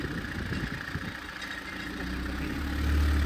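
A Renault 4x4 timber lorry's diesel engine runs steadily and then climbs in revs toward the end, a close, loud mechanical drone with no one talking.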